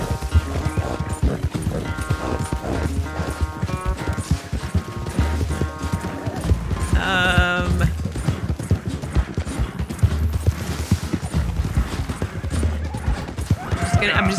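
Horses gallop in a race in Red Dead Redemption 2, a steady clip-clop of hooves running throughout under dense music and game noise, with a brief whinny-like burst midway and people talking over it.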